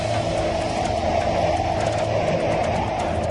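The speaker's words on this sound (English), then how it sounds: "You can start to hear the roar outside." Category 5 Hurricane Andrew blows outside a house with boarded-up windows. A dense, unbroken roar of wind holds loud and steady throughout, heard from indoors, with no voices.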